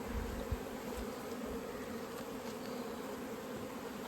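Mountain honey bees hum and buzz steadily around an open hive during a hot, dry inspection, a dense continuous drone close by with no talking.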